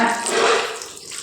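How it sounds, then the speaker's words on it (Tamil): Half a cup of water is poured into a cooking pot with tamarind, a loud, close splashing gush that quickly tapers off. "சேர்த்து கொடுத்துட்டு 1/2 கப் தண்ணி சேர்த்துக்கோங்க"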